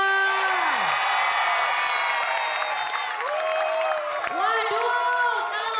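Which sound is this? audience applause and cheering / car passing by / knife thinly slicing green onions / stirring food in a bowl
audience applause and cheering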